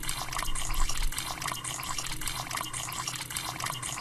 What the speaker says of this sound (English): Anyway, there's some water.